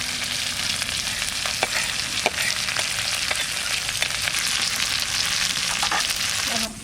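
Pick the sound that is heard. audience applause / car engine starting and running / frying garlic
frying garlic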